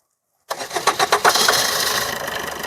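A car engine cranking after silence, several rhythmic starter turns that catch into a steady, smooth idle close by.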